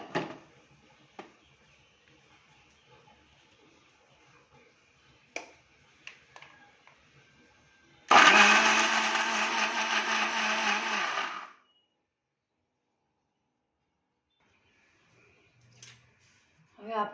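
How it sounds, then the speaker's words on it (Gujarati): An electric mixer grinder whirs loudly for about three seconds while grinding dates and nuts, starting abruptly and cutting off sharply, with faint kitchen clicks and taps before and after. "હવે આપણે મિક્સરમાં ગ્રાઇન્ડ કરીશું"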